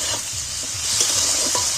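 Onion and tomato fry in a pan over a steady, bright sizzle, while the spoon scrapes and stirs with a few soft knocks throughout, close by with no talking.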